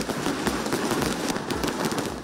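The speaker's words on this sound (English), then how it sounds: "The sky is lit up with fireworks." Fireworks and firecrackers going off during a Diwali night celebration, a dense, continuous roar of crackling bursts and pops with no clear gaps.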